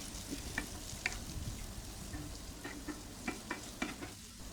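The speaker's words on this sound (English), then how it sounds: "Add half cup of chopped onion and saute it for few minutes." Chopped onion sautéing in a pan after curry leaves, a continuous sizzle broken by repeated spatula stirs and taps against the pan.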